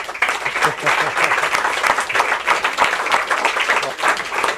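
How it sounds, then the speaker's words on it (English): Audience at a journalism awards ceremony gives a dense, loud round of applause, close and continuous throughout, with a voice talking briefly under the clapping. "for that I'd like to give you a great round of applause"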